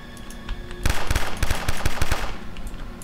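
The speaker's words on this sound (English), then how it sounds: "Shoot. Shoot back." Rapid gunfire in the zombie survival video game Fort Zombie: a sudden burst of close, loud shots cracking in quick irregular succession for about a second and a half, then fading into a lingering echo.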